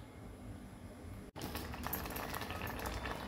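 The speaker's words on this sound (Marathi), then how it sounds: "5 मिनिटं चांगली याला उकळू द्यायची" Curry of dried chickpea leaves boiling in a pot, a quiet continuous bubbling with a brief break, then slightly livelier gurgling.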